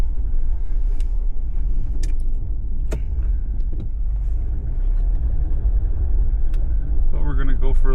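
A car rolls along a sunny winter road in Nova Scotia between Bridgetown and Annapolis Royal, with a steady loud engine and tire rumble inside the cabin, occasional small clicks and rattles, and a voice starting near the end.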